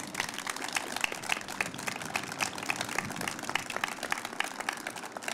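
Audience applause at a spring nursing pinning ceremony, a steady round of clapping from a crowd of many hands, moderately distant and even throughout, with no talk.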